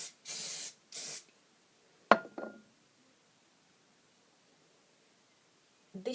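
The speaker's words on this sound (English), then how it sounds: "Just hairspray it a little bit just to make sure it stays in place." Two short hissing bursts of a Sainsbury's hairspray aerosol misted onto a rolled retro hairstyle, close and fairly loud, followed by a light clatter as the can is set down, then near silence.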